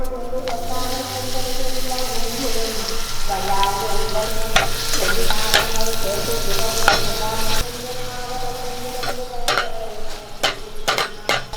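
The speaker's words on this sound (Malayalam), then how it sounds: "ഇനിയും ബാക്കിയിരിക്കുന്ന പപ്പടം കൂടെ വറുത്തെടുക്കാം" Steady, loud sizzling of papadums deep-frying in hot oil, with occasional sharp clinks and scrapes of a utensil against the pan throughout.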